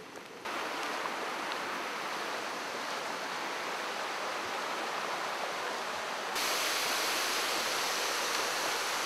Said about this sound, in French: Je suis au pied d'une cascade célèbre dans cette montagne qui s'appelle Ryumon no Taki.